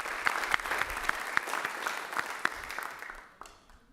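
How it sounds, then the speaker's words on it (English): An audience applauds the lunch hosts Tammy and Wasabi at a midday gathering, a lively burst of many hands clapping that holds steady for several seconds and then thins out toward the end. "So let's give them a round of applause"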